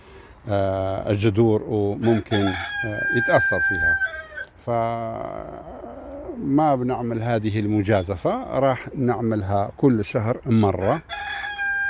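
A rooster crows loudly and repeatedly at a home garden, its long calls alternating with someone speaking Arabic nearby.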